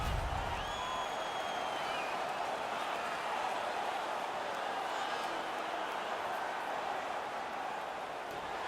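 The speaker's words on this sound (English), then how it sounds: "The home crowd is ecstatic." Home crowd in the NHL 19 hockey video game roars in a steady, even wash of noise that holds at a moderate level without pauses.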